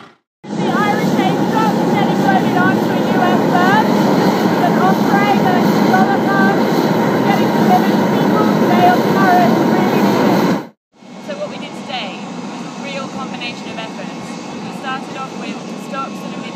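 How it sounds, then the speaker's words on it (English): A US military helicopter carrying earthquake relief supplies in Nepal roars loud and steady from close by, with a brief cut partway through before the rotor and engine noise resumes at a slightly lower level. "we're right now today putting them on a chopper provided by the US military"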